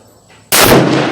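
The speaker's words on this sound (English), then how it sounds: "this is gonna be my first time shooting 270 ever" A single sharp, loud rifle shot from a Howa 1500 chambered in .270 fires at a range after a brief quiet moment, with a broad blast that rings on briefly.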